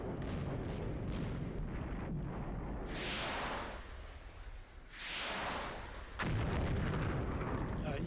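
Artillery fire in the Flashpoint Campaigns wargame: repeated heavy booming blasts with long rumbling decays, several rolling explosions spread across the span, loud and fairly close, with no talk over them.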